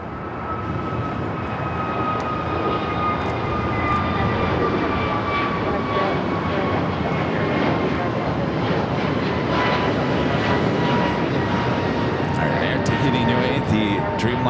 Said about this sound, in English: Dreamliner now heading into the gates of Tom Bradley